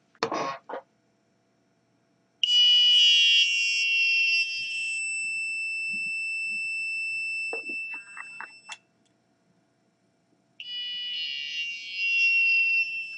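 An Arduino multi-function shield buzzer sounds a loud, harsh electronic beep, then holds a steadier tone for several seconds, goes briefly silent, and returns with a louder beep near the end.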